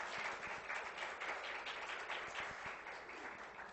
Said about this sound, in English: Would everyone give Sue a big round of applause?